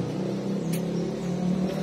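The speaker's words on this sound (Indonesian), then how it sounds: "Waduh, tuh motor nalpotnya." A motorcycle exhaust revs nearby in a banana plantation, a steady droning engine note with a slight rise in pitch, loud and continuous throughout, with no talking.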